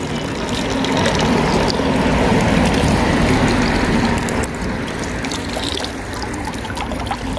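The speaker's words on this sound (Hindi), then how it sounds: "पानी, ठंडा पानी है ये वाला।" Cold water runs and trickles continuously in Zurich, with a steady splashing flow and faint metallic clicks mixed in, fairly close with no talking.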